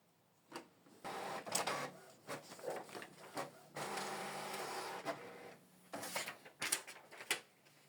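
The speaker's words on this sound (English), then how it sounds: "Print test page." Canon Pixma TS6550i printer running a test page: whirring feed motor bursts, clicks and mechanical clunks as paper advances, repeating in uneven stretches, close and fairly quiet, with no talking.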